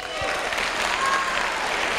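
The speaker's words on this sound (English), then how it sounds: "Clap." A comedy club audience claps in response to a comedian, a brief, dense wash of crowd applause over about two seconds.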